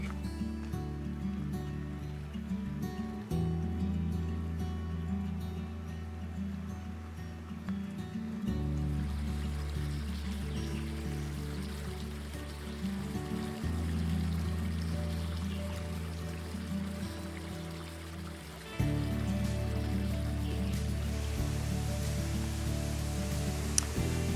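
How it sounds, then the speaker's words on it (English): A small waterfall on a Georgia hike gives off a steady, broad rushing wash of falling water, even and continuous, with a few subtle shifts in level. "I think we're at our first legitimate waterfall"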